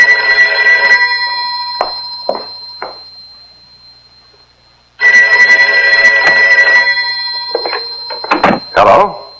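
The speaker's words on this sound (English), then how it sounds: "Did I hear the phone ring?" A telephone bell rings loudly twice in long bursts, with a pause between, and clattering handling noises afterward.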